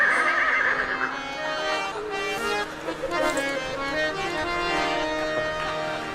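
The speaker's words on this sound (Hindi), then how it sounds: "तब तक घर के भीतर से घोड़ा हिनहिना दिया।" A horse neighs from inside a house, a loud whinny at the start that trails into a few shorter, fainter whinnying calls over several seconds.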